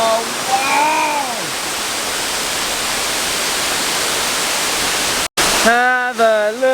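A waterfall in Skjolden, Norway roars as a loud, constant broadband rush close by, while a voice exclaims over it at the start and again near the end.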